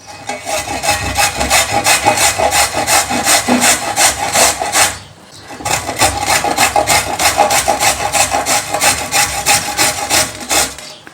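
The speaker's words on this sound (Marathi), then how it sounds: "आता आपण ही गाजरे किसून घेऊयात" Carrots being grated by hand for traditional carrot halwa, a steady rhythmic rasping of strokes against a grater, loud and close, running throughout with a brief pause near the middle.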